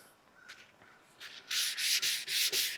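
Sanding a car body panel by hand with 400 grit sandpaper, starting with faint light scrapes and building into loud, rhythmic back-and-forth rasping strokes close by.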